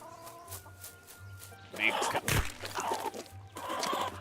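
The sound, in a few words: chicken clucking in a video game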